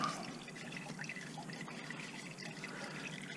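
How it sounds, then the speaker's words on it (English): Engine oil draining from a Subaru Legacy into a funnel, a faint continuous trickle and gurgle of liquid, steady and quiet throughout. "the drain is pretty full, but it's draining out"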